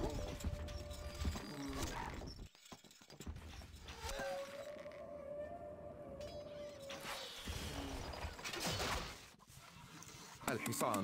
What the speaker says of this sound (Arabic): الحصان سريع